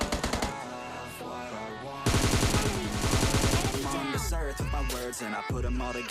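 Rapid automatic gunfire from a PUBG Lite match as bots are shot down, with dense bursts running almost the whole time over steady in-game sound and a few heavier, louder shots near the end.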